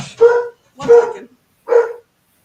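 Three loud, close puppy barks ring out one at a time with short pauses between them, alone in an otherwise quiet room.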